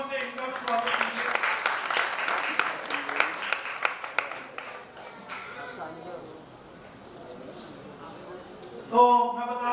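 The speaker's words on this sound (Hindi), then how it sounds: "एक बार फिर से तीनों जजेस के लिए जोरदार तालियां।" An audience at a children's singing competition grand finale in Mumbai claps loudly for the three judges, with brisk applause in the first half fading out as a voice talks over it and continues alone.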